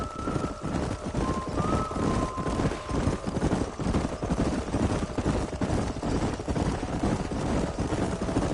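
Horses' hooves clip-clop in a steady, driving rhythm as riders move with a herd through a canyon in Red Dead Redemption, loud and continuous, with a brief whinny early on.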